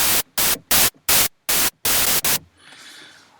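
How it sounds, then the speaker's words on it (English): Synthesizer oscillator set to white noise, sounding as loud bursts of harsh full-spectrum hiss in a choppy on-off rhythm, six or seven pulses, then a fainter, washed-out noise tail. "we choose white noise. Now it sounds like this."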